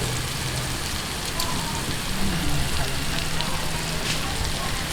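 Chicken intestines, isaw, deep-fry in hot oil until golden brown, giving a steady, close, dense crackling sizzle that holds through the whole stretch.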